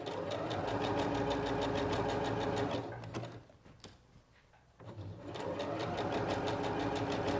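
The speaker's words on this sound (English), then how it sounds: "you might just have to help the fabric a little bit get through the machine" A Singer Professional 9100 sewing machine stitches a hem in slightly thick fabric with a loud, steady rapid whirr. It stops for about two seconds and then resumes at the same fast pace, with no talking.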